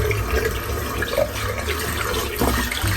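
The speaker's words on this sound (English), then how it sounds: "just with a quick smash in the water, it rinses out crystal clear" Shaving brush (Semogue boar badger) being rinsed in cold water after a head shave, a steady running-tap rush with splashing throughout and a brief stronger slosh near the end, no voices.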